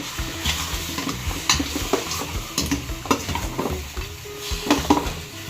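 Goat meat for kalderetang kambing sautéing in a pan, a steady sizzle and frying hiss with repeated scraping and clinking of a utensil stirring against the metal pan, close by and without talk.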